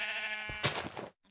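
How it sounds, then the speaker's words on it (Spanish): Sheep in a Minecraft mod game give a bleat with a short wavering tone, then a second bleat follows after a brief gap, fairly close and alone with no voice over it. "¡Oh, la abeja! ¡Más ovejas!"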